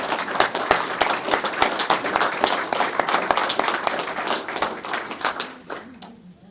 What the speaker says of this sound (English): might just finally give a round of applause to the 10 graduates of the Station Officers Development Program